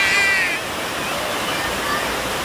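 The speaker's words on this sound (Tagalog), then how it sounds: "palakas po ng palakas yung baha at kulay brown na po" Brown floodwater from a swollen river rushes in a steady, broad roar that rises and thickens, close by and loud outdoors, with faint voices and a brief high squeal early on.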